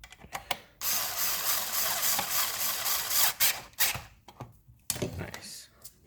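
A Black and Decker Li2000 cordless screwdriver drives a screw tight with a close, bright whirring buzz and ratcheting clicks in short bursts, interrupted by brief pauses.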